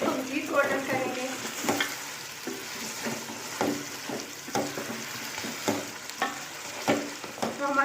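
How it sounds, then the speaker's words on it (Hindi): Chicken karahi with ginger frying in a pan, a continuous close sizzle broken by repeated scraping stirs at an uneven rhythm, with faint voice traces in the background. "इसे 3 से 4 मिनट हम मज़ीद भूनेंगे, इसको मज़ीद गोल्डन करेंगे"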